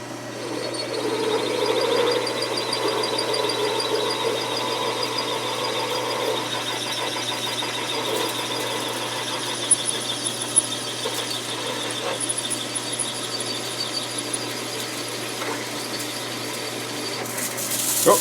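An FX Dreamline Moderator machine drills at medium speed, giving a steady high-pitched whirring squeal that holds for the whole stretch, with a few brief clicks and knocks near the end.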